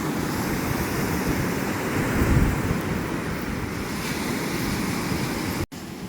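Black Sea waves rolling in on a beach in strong wind, a continuous loud rushing surf with heavy wind buffeting the microphone and a brief dropout near the end.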